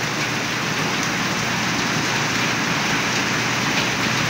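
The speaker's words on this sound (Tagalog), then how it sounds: "Malakas ang ulan" Heavy rain pours down without letup, a loud, steady, broadband hiss of water drumming on surfaces close by, with no voices.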